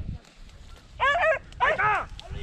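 A dog gives a couple of short barks or yips during a rabbit hunt in an orchard, loud and close, with faint outdoor rustle between them.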